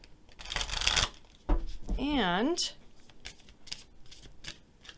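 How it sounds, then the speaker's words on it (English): Oracle cards being shuffled in a psychic tarot reading, with bursts of rapid riffling early and late around a spoken word and a short whistling sweep in the middle. "So let's shuffle and draw a few of my color goddess cards and see what we get."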